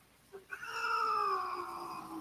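A house cat gives one drawn-out, rising and falling meow close by, preceded by a brief soft chirp, with no talking over it.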